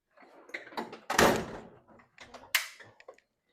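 A tool drawer in a wood shop opens with a long sliding rumble and clatter, followed by a few sharp knocks and a second loud clack as its contents shift. It sounds close and stands alone with no talk.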